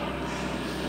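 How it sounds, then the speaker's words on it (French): An airplane passes overhead, a steady, loud engine drone that holds evenly through the brief moment. "On va laisser passer l'avion."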